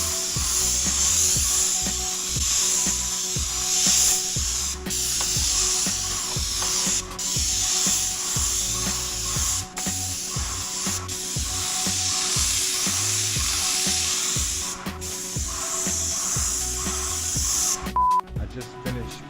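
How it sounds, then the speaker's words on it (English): Airless paint sprayer coating the back side of a house exterior in Maine, heard up close as a continuous broad hiss with brief pauses and clicks between passes, a steady pump drone underneath. "Just finished spraying the back side."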